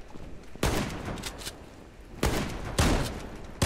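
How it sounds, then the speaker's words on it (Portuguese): Gunfire in the shooter game Zula strikes the player in sharp, loud bursts, three main volleys of rapid shots with quieter gaps between them. "Tomando vários tiros aqui, eu tô correndo"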